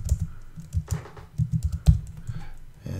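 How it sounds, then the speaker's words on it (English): Keyboard keys clatter in quick, irregular bursts, close and fairly loud, with brief pauses between flurries of typing. "I'm going to find that bank by typing the name in the search."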